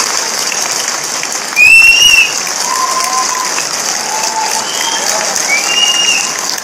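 Audience at a seminar breaking into steady applause, a dense wash of clapping that runs the whole time, with a few whistles cutting through and brief louder voices partway in.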